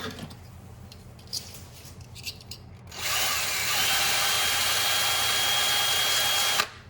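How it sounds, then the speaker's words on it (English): A power drill whirs steadily for several seconds, close and loud, drilling a hole through a metal binder clip, after a quieter stretch of faint background noise. "Put a hole in the middle of the binder clip."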